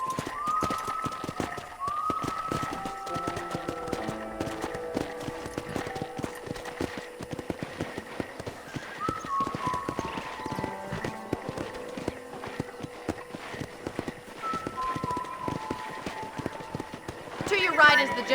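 Steady clip-clop of horse hooves at a running pace in the video game Red Dead Redemption, continuing throughout, with voices speaking over it and some ambient music-like tones.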